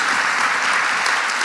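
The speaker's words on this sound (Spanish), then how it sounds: "Aplausos para Andrea." Audience applause after a talk in an equality conversation series, a steady dense wash of clapping that stays even and loud for the whole short stretch with no voices over it.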